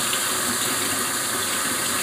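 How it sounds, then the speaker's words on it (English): Water runs in a steady, fairly loud stream as it is added to chicken broth gravy, a constant tap-like rush with no speech. "So I'm gonna add more water,"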